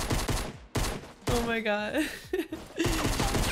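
Pump shotgun blasts in Fortnite, a few sharp booming shots in quick succession, loud and close, mixed with excited gameplay voices and an exclaimed reaction.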